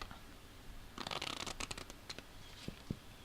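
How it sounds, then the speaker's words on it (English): A deck of playing cards riffle shuffled for a card trick, a quick burst of fluttering snaps followed by a few separate taps as the deck is squared, quiet and close. "I'm pretty excited about having invented that riffle force that doesn't look too cheap."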